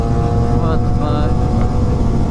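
Sport bikes passing close on a road, their engines giving a loud, steady drone with rising revving whines, while voices talk over the noise.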